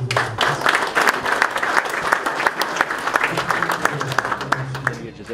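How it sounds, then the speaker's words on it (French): An audience applauds at a 2018 AAPFA gathering, a steady dense clapping that goes on throughout, with voices faintly mixed underneath. "je voudrais que vous applaudissiez"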